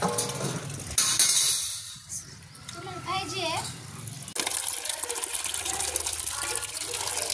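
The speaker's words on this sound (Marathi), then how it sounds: "स्वतः गहू धुतत बघ किती पाण्याने गहू धुतलाय" Water sloshes and splashes in a container as wheat grain is rinsed by hand, with voices talking in the background throughout.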